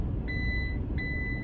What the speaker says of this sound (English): Maggie weighs enough that the seatbelt alarm starts going off